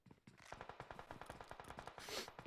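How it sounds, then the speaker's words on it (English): Rapid automatic gunfire from the PUBG Mobile game rattles in dense, evenly spaced bursts with no pauses, fairly quiet overall and heard alone. "The gunshots probably, yeah."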